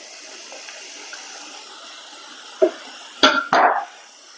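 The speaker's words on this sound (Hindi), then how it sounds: "थोड़ा सा उलट पलट कर सेक लेते हैं, अच्छे से फ्राई कर लेते हैं।" Boondi droplets for laddu frying in hot oil make a continuous soft sizzling hiss, then sharper bursts of louder crackling sputter toward the end as more batter hits the oil. No one speaks.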